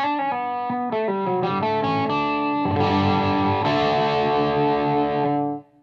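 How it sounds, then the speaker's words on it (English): Distorted electric guitar through the tube driver circuit of an ENGL amp, Special Edition, a loud close run of chords and sustained notes ringing out richly before cutting off at the end, with no talking. "Here is just the tube driver circuit."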